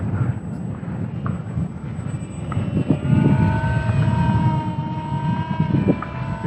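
ESKY Sparrow beginner RC biplane flying on its own outdoors, its small electric motor making a continuous whining drone with shifting pitch as it passes, steady and moderately loud, with no voices.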